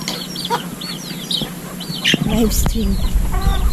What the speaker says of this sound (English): So these are the chickens that you always hear